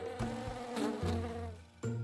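A bee buzzes in close, loud, droning bursts that swell and cut off several times, with no voices.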